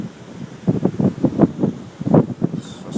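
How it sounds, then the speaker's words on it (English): Strong outdoor wind buffets the microphone in irregular rumbling gusts during rain, loud and close. "Well, this wind has really picked up all of a sudden."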